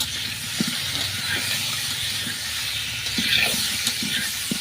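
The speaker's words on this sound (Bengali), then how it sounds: "হালকা করে ভাজবো, বেশি ভাজবো না।" Potato pieces with turmeric and salt fry in a pan, making a steady, close sizzle and hiss broken by occasional soft utensil clicks.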